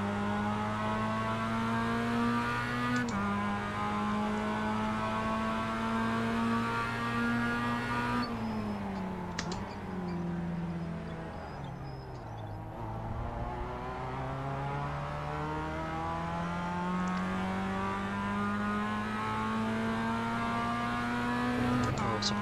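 Several Mazda MX-5 Cup race cars in iRacing at Summit Point launch off the start together, their engines revving hard and loud through upshifts in steady rising and falling sweeps, with a brief lull in the middle.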